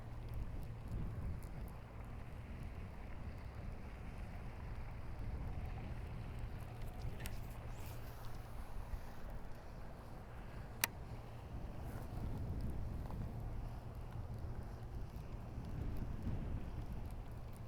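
Wind rushes outdoors on the water during a bass fishing trip, a steady broad roar with gusty buffeting against the microphone throughout, a low boat hum beneath and one sharp knock near the end.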